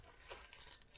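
A delaminated sail's fabric rips once, in a faint, brief tearing crinkle that lasts under a second.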